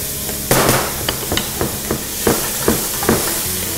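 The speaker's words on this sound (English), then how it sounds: "We saute a little bit of onions in here." Onions sautéing in a pan under a constant hiss, punctuated by a series of sharp knocks and clacks of a utensil striking the pan at irregular intervals, close and fairly loud.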